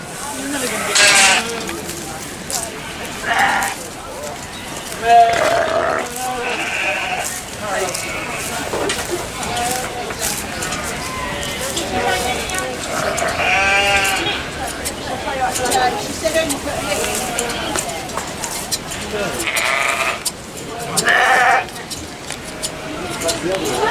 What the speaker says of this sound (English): Curly sheep, isn't it?